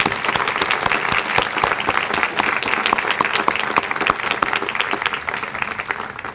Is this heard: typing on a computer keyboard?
no